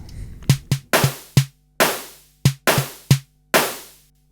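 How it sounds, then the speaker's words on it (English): Custom Swedish drum kit samples from the Battery layer hit in a loose rhythm: eight punchy, loud strikes with sharp attacks and short decaying tails, no voices. "Second layer is battery, Swedish drum kit."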